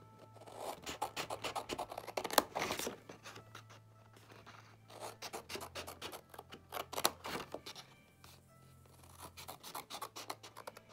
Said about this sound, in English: So what we simply do, we're going to cut up to the first score line.